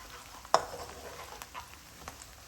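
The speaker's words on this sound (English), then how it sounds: "So we're going to fry this for about 4 to 5 minutes and then until it starts to release the oil again" Onion paste fries in a pan with a steady, soft sizzle, broken by one sharp scrape of the spoon and a few quieter stirring strokes. The sound is close, and no one speaks.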